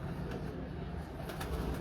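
Chinese pigeons in a breeder's loft cooing softly and continuously, a low steady murmur of several birds close by with a few brighter call bursts near the end.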